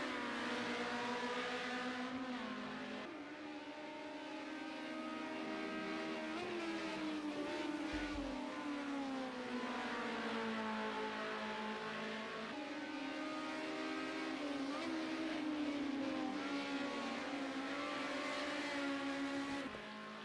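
Race cars in a sim racing event roar steadily on a track, their engines droning and shifting pitch through gear changes as a continuous, close, loud mechanical whine with no talk.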